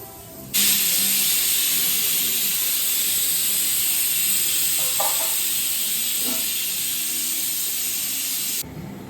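A loud, steady hiss of steam rushing out of a pressure cooker whistle while cooking beef, continuous for several seconds before cutting off abruptly.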